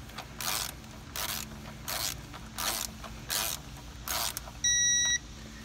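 Bolts on a 6L80 transmission valve body being torqued with a ratchet, giving seven short bursts of ratcheting clicks at a steady rhythm, close and alone, ending in a brief electronic beep.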